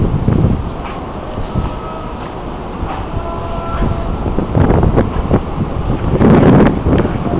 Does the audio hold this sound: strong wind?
yes